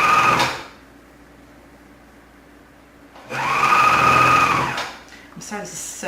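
An old overlocker sewing machine runs in two loud whirring bursts while stitching a sample garment, one short at the start and a longer run of about two seconds after a quiet pause, close and mechanical.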